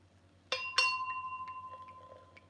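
Two drinking glasses clink together sharply, one after the other, leaving a clear ringing tone that fades slowly in a quiet room.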